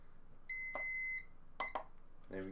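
An electronic exercise timer gives a steady held beep, followed by a few shorter bleeps and a final tone, fairly close and clear with no talking over it.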